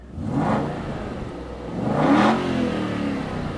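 An Aston Martin Vantage engine is revved twice, each blip rising to a throaty roar and settling back to a rumbling idle, close up with no talk.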